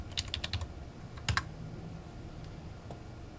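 Quick bursts of typing on a computer keyboard, a few fast clustered clicks near the start and another short flurry around a second in, then sparse faint taps in a quiet room.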